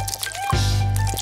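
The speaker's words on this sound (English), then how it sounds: "Carefully pour the pancake batter into the pan." Pancake batter poured into a hot pan, a short soft liquid pour with squishy sizzling onset that holds steady and close, no talking.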